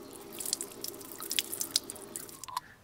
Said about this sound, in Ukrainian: Промиємо в проточній воді.